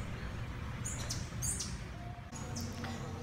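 Small birds chirping inside a butterfly conservatory in Key West, a few short high tweets scattered over a low steady background hum.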